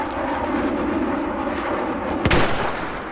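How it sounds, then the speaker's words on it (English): A grenade explodes in a video game: a sharp blast rises out of a dense, continuous rumble of battle noise and is followed by a rolling boom. "Let's try the grenades again."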